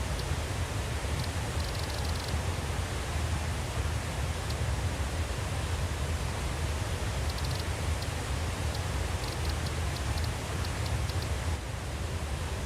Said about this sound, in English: I gotta turn the waterfall volume down a little bit.